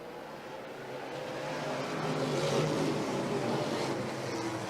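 NASCAR Pinty's Series race cars on a restart at Autodrome Saint-Eustache, a dense pack of engines building from a steady drone into a loud, sustained roar, with no voices.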